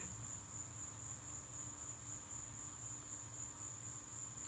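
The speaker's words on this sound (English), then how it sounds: "the fucking crickets are loud, too" Steady, high-pitched cricket chirping fills the background, a continuous shrill drone over a low, quiet outdoor rumble.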